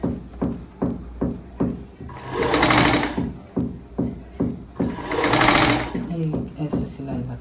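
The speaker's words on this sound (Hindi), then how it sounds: "एक ऐसे सिलाई लगा दीजिए।" Sewing machine stitching a round-shaped kurti: two sustained, loud whirring runs of stitching, with sharp rhythmic clicks and a voice between them.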